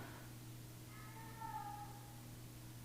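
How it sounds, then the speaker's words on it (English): A cat named Pudgy meowing faintly in the distance, one drawn-out meow over a steady low background hum. "He's out there meowing."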